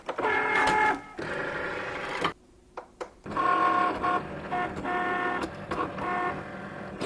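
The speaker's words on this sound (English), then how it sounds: "Now we're ready to load the mat into the Cricut and start the cutting process." A Cricut cutting machine cuts vinyl on a mat, whirring and buzzing with motor tones that rise and fall as the carriage moves, briefly pausing before resuming, loud and close with no speech.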